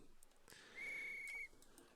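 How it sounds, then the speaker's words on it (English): A Class 186 Traxx locomotive in Train Simulator Classic sounds its departure whistle at Děčín: one short, steady, high whistle tone lasting under a second, faint and distant over quiet background noise. "There's our whistle."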